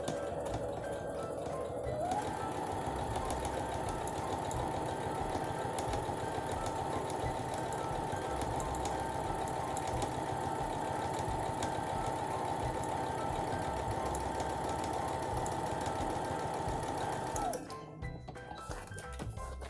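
A sewing machine stitches the side seam of a bag lining, a steady close whirring hum with rapid needle clatter that starts at about two seconds and runs evenly until stopping near the end.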